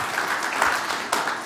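Audience applause at a startup community finance event, a short burst of dense clapping that swells briefly and stays steady, with a faint voice near the end.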